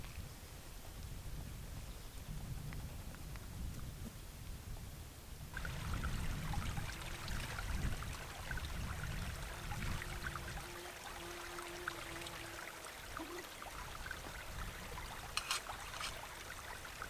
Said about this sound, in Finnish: Tuolla on semmonen pieni purokin, niin saa vettä sieltä.